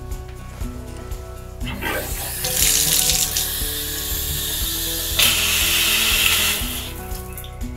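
Water gushes from a newly replaced shower head with strong pressure, a steady loud hiss that swells after the tap turns on with a ratcheting creak, continuing over a low hum.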